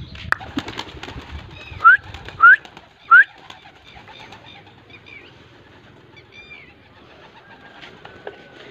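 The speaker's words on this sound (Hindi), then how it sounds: "और ये कबूतर" A few short pigeon calls ring out in quick succession against quiet outdoor background noise, followed by softer chirps; no talking.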